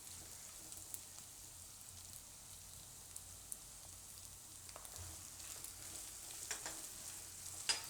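Chopped bottle gourd cooks in hot oil in a pan, a soft, steady sizzle and hiss running throughout with faint occasional ticks and pops, low and close, with no voices.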